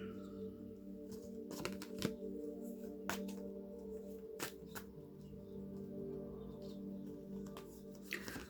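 Tarot cards are shuffled by hand in a quiet room, giving soft, irregular riffling and sharper slapping clicks over a steady low hum.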